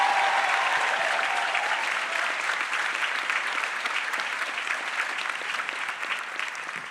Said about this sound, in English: Let us have a round of applause for all the families that are here tonight.